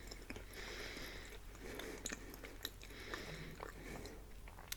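Someone bites into and chews a soft store-bought marshmallow treat on a cracker, close and quiet, with repeated muffled squishy bites and soft crunches and no talking.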